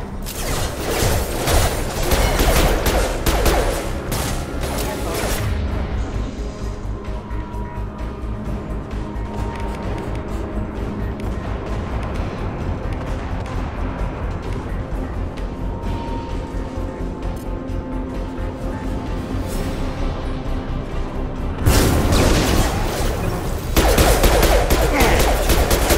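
Gunfire in the video game Mass Effect 2 crackles in rapid bursts, with dense, loud automatic fire at the start and end and a calmer mechanical stretch between the bursts.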